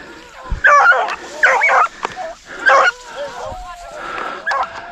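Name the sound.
hunting dog barking while chasing a rabbit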